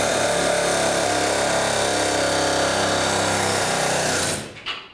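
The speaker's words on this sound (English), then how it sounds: "we're going to separate the upper ball joint from the control arm, either using a hammer or even an air hammer." An air hammer rattles loudly and continuously against the upper ball joint of a 1992-2000 Chevy Tahoe to separate it from the control arm, then cuts off abruptly near the end.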